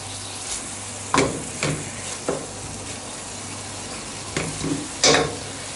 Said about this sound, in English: Put the eggs on a high heat.